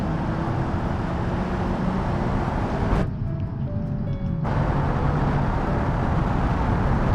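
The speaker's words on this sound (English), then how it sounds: "This doesn't sound like an inline 5" The KLJP Covet's inline-five engine in the BeamNG driving game, a continuous loud rumbling drone with road noise that drops out briefly mid-clip before resuming steadily.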